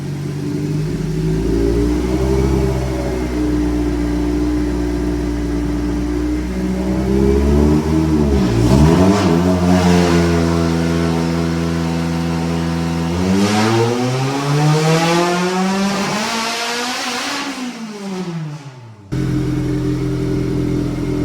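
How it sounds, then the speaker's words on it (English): A K24-powered nitrous wagon revs hard on a dyno, the engine droning steadily before climbing through a rising pull, dipping, then surging again to a high-pitched scream before cutting off abruptly, loud and close. "First nitrous pull, clutch started slipping and just slipped."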